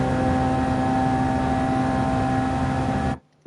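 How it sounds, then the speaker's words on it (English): Group 1 race car engine held at high revs in sixth gear at Spa-Francorchamps in Gran Turismo 7, a loud, steady droning roar that cuts off abruptly near the end. "And we're just revving out 6th gear."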